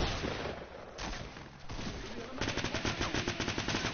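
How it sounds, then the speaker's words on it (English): Shotguns fire in rapid succession during a Fortnite fight, loud and close, with blasts overlapping into a dense burst that grows more rhythmic toward the end. "you guys pulled out your shotguns instead of just shooting at him"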